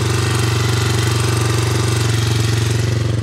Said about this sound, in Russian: Ну и вот как ровно, шелестя, работает двигатель.